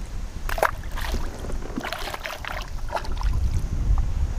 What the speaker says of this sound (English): I don't ordinarily like fishing in the wind like this